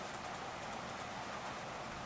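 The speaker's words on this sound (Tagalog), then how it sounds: "Lakas ng ulan ngayon, oh." Heavy rain pours down at night, a dense, steady hiss of falling water, continuous and fairly faint, with no voices.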